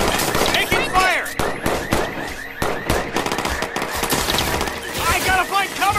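Rapid bursts of automatic gunfire in the video game Watch Dogs 2, loud and close, crackling in dense repeated volleys with brief gaps throughout.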